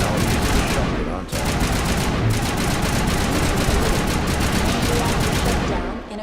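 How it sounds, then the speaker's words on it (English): Gunfire in the video game Mass Effect: a loud, rapid stream of shots with a brief break about a second in, then continuous firing that fades near the end. "No, I'm using the shotgun"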